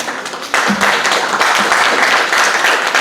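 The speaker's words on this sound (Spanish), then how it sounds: "Recibámoslos con un fuerte aplauso" A conference audience at a talk on intercultural cinema in Michoacán breaks into applause to welcome the speakers, starting with a quieter patter and jumping after half a second into loud, steady clapping.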